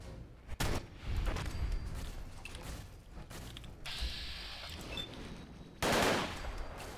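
Fallout 4 combat with a combat mod installed: scattered gunshots and short bursts of fire, some close and punchy and others more muffled, over a busy background of game noise, with no talking.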